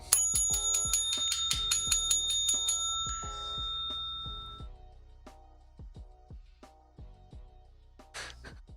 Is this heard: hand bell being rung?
yes